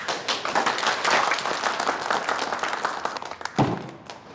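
Applause from an audience at a company event rises as a dense, lively patter of clapping, with a sharp thump near the end.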